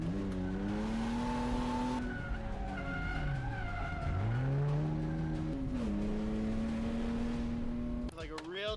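An E36 drift car slides with a sustained, wavering tire squeal and engine howl whose pitch sweeps down and back up across several seconds, loud and close, ending in a brief harsh burst.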